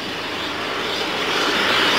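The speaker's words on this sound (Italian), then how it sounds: "È un aereo che parte verso l'Australia" An airliner departing for Australia roars steadily with a broad, dense jet engine rumble that swells slightly louder across the short stretch, with no talk.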